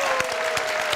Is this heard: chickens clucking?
no